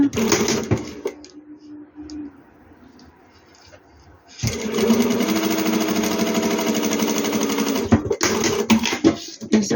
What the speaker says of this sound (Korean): 겉과 겉을 먼저 보시고 1cm 재봉해 줍니다.